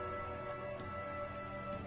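Rain falls steadily over Precinct 41 in a narrated scene, a dense even patter with a faint tonal hum beneath, constant and moderately quiet throughout.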